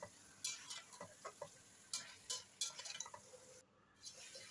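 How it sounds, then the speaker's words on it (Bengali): Chicken and potatoes being stir-fried in a pot, with quiet sizzling and intermittent scraping stirs of a spoon against the pot, soft and close with brief pauses and no talking. "তো এখন আবার আলু দিয়ে ভালো করে কষিয়ে নেব।"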